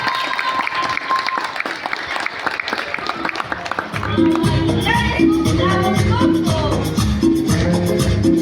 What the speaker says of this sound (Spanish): Un fuerte aplauso, por favor, para las niñas.